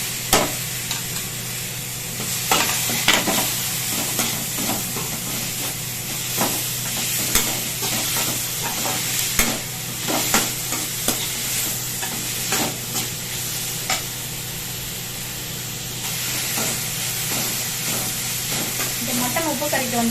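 Onions and tomato with a little garam masala fry in a pan for mutton uppu kari, a steady sizzle broken by repeated, irregular scrapes and clatters of stirring.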